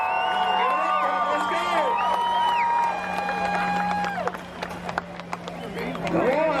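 Spectators cheer and whoop at a side-by-side vehicle stunt, with shrill rising shouts over a steady hum, an announcer talking throughout, and a swell of crowd noise near the end.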